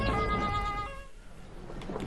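An ambulance siren wails loudly at first with a clear tonal sweep, then fades away beneath broad road noise, with no talk.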